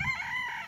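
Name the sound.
chicken clucking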